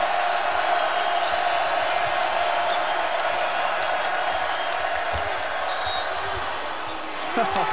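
A college basketball crowd in the Kentucky at Auburn arena roars and cheers in a steady, loud wall of sound, with ball bounces and an announcer talking underneath.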